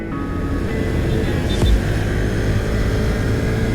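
A tractor passes by quickly. Its engine sweeps down in pitch midway as it goes past, over a steady, loud vehicle drone that lasts the whole time.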